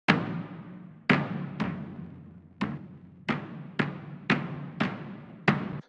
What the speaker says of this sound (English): I've made another rhythmic drum.